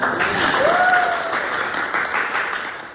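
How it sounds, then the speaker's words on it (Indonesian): A classroom of students applauds together at a school robotics lesson, a steady wash of clapping that slowly tapers off, with a brief whistle-like tone over it. "Tepuk tangan."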